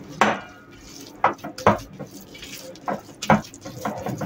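Poğaça dough being stirred in a bowl: a run of sharp clinks and scrapes as a utensil knocks against the bowl, irregular strokes close by with no talking.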